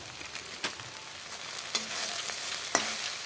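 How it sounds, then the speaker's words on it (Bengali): Soybean chunks seasoned with turmeric and salt fry in a pan, giving a steady soft sizzle broken by a few sharp scrapes of stirring, with no voices. "সয়াবিনগুলোকে হলুদ নুন দিয়ে সুন্দর করে লাল লাল করে ভেজে নেব।"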